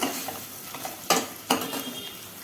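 Chopped onion and small peeled garlic pieces fry in a pan for tomato rasam, giving a steady close sizzle broken by a couple of sharp scraping stirs of a spoon against the pan.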